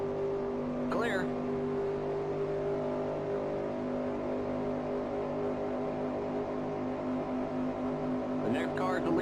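A race car engine drones steadily at the 1965 Permatex 300 stock car race, its harmonic roar holding throughout, with brief radio voice bursts near the start and end.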